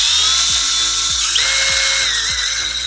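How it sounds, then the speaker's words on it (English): A power drill bores a pilot hole into the diffuser tab of a BMW 2 Series bumper. It runs as a loud, close, steady high-pitched whine with a rhythmic ratcheting tick underneath, and no voices. "just drill into the diffuser tab"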